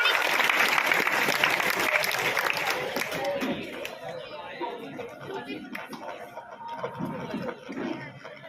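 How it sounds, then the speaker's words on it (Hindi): Audience applause at a school cleanliness event, a loud burst of clapping that gradually thins out into crowd chatter and voices. "उनका भी जोरदार तालियों से स्वागत करते हैं।"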